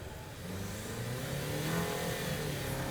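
A 2019 Jeep Cherokee Overland's turbocharged engine revs steadily upward, its droning pitch climbing and holding, heard from inside the cabin with no talking.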